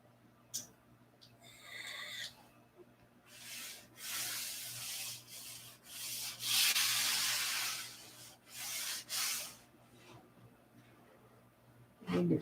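Hand sanding of a wooden piece in a workshop: repeated rasping strokes of sandpaper on wood, close and fairly soft, in uneven bursts separated by short pauses.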